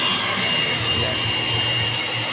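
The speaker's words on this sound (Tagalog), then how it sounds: "linisan natin konting blower para matanggal yung mga tira-tirang buhok sa taas" A blower clears loose hair off a client after a mid-fade haircut, giving a loud, continuous, steady whooshing hiss close to the listener for the whole stretch, with no voices over it.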